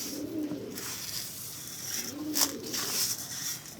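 Sherazi pigeons coo in a breeding cage, low rolling coos repeating every second or two close by, with light fluttering and rustling noises in between.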